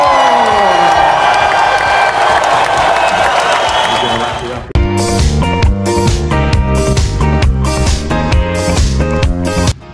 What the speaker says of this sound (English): Let's give them a massive Newton round of applause!